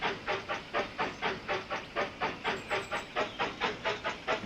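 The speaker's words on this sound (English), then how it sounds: "There's our first little train making its way." A steam train in the Railroad Tycoon 3 game chuffs along in a steady, even rhythm of about four hissing puffs per second, loud and alone with no talk.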